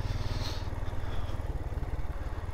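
A Royal Enfield Himalayan motorcycle rides relaxed in second gear at low revs, its single-cylinder engine giving a close, steady, throbbing rumble with rapid, even pulses and no voices.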